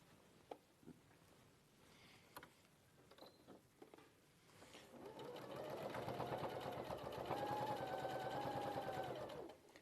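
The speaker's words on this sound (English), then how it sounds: "You're going to stitch along the same seam line to hold it in place." A sewing machine stitches steadily along a seam through several layers of fabric, starting after a few soft handling taps and then running continuously and close for several seconds before stopping.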